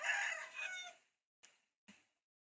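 Young rooster of about 2.2 to 2.3 kilograms giving one crow close by, the call lasting about a second and followed by a couple of short faint clucks in an otherwise quiet yard.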